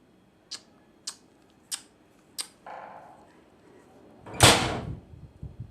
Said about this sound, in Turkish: Kapı çarptı.